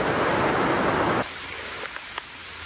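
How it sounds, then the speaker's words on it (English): Heavy rain on a farm pours down as a dense, loud hiss that cuts away abruptly partway through, leaving a quieter background with a few scattered drips. "Fortunately, it's raining awful hard today."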